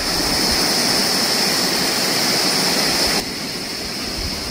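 Water flowing steadily outdoors, a loud, constant broadband rush like a stream or small waterfall, close and unbroken, with a slight drop in level near the end.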